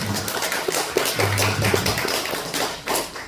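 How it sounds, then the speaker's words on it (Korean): A church congregation at the opening worship service of a lecture series breaks into steady, dense applause, many hands clapping together at close range for several seconds without pause. "박수 한번 다시 한번 부탁드리겠습니다."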